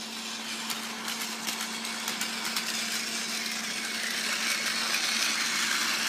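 Plarail E5 Hayabusa and E6 Komachi Shinkansen toy trains run on plastic track, a close, steady buzzing motor whine with a constant hum and faint rattling clicks throughout.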